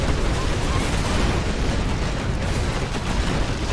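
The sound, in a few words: explosion in the video game C&C Generals Zero Hour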